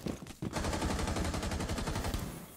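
Loud, sustained automatic gunfire in a tactical shooter video game, a rapid unbroken burst of shots after a brief stutter at the start.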